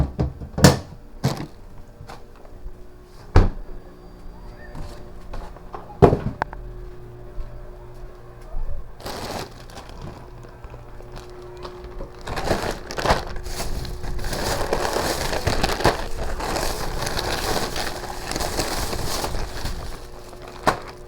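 Frozen ice is pried and broken loose from a freezer, with sharp knocks and cracking scrapes early on, then a dense, continuous crunching and grinding toward the end, heard close up.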